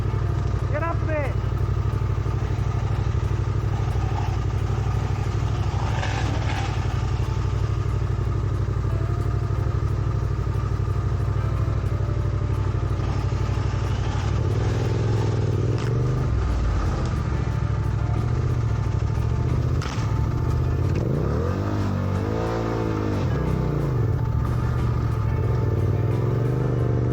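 Adventure motorcycles labour up a steep hill, engines droning loudly and revving with clatter, while voices call out over the noise.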